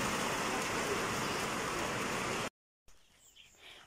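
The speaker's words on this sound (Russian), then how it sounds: "Вот это ливень." A heavy rain downpour roars as a dense, steady hiss for over two seconds, then cuts off abruptly, followed by a quieter stretch with faint chirps.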